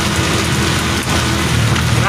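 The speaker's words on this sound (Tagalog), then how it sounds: "Lakas ng ulan." Heavy rain pounds a car on the road toward Santa Cruz, Laguna, a loud, dense, continuous wash of drumming drops that fills the short stretch without a break.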